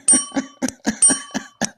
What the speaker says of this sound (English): how about the doorbell action here, Val?